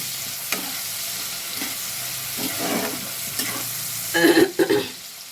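Onion and tomato frying together in a pan, a steady soft sizzle with stirring scrapes, then a few sharp clanks of a utensil against the pan near the end.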